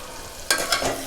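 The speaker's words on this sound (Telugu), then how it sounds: "చూడండి ఆయిల్ మొత్తం పైకి వచ్చేసింది. ఇది బాగా ఫ్రై అయిపోయిందండి" Coriander powder and garam masala hit hot oil in a pan, a sudden burst of sizzling and stirring with a couple of sharp scraping accents, close and brief.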